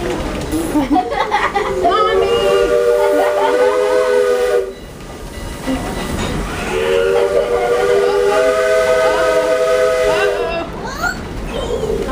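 A loud steam train whistle blows in two long sustained blasts separated by a brief pause, with hissing steam underneath.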